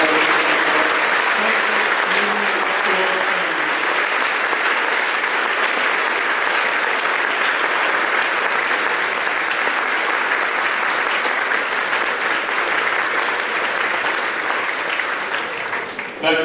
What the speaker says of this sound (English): let's please give them one last big round of applause